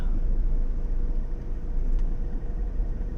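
Slow road traffic on Sales Road near a parked taxi makes a steady low engine rumble, heard from inside a vehicle, with no talking.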